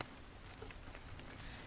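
Steady rain hisses with dense, even patter and scattered droplet ticks, soft and continuous throughout with no other sounds.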